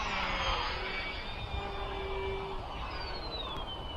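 An XK A600 RC airplane coming in to land, a steady moderate electric motor whine over wind rush with a faint tone slowly shifting as it passes.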